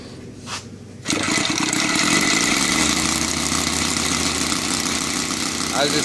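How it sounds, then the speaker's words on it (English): A small EVO 7-77 model aircraft engine converted to gasoline with CDI ignition fires up after a brief lead-in and runs loudly and steadily at throttle, with a continuous buzzing drone close by. "come on, a little bit more throttle."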